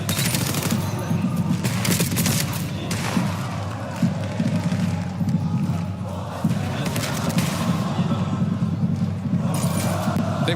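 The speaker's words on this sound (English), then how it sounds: "And wow, a lot of shots just thrown." Call of Duty Black Ops gunfire at an esports tournament match: dense, sustained bursts of shooting and thudding impacts roll on nearly without break, loud and close, with crowd noise and commentary murmuring underneath.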